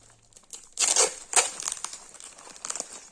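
Close crinkling and rustling of plastic wrap as a parcel is repacked, with two louder crumpling bursts followed by steady handling noises.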